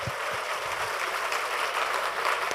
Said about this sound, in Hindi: तो आप लोग खुद के लिए भी एक बार जोर से ताली बजा दो।